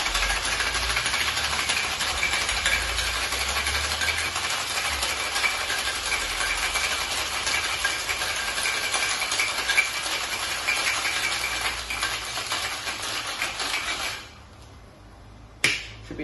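An espresso martini is shaken hard with plenty of ice in metal cocktail tins, a continuous rapid rattling clatter close by for about fourteen seconds, then stopping abruptly with a final clink.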